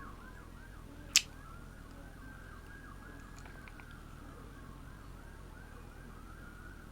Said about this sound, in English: did y'all hear those sirens?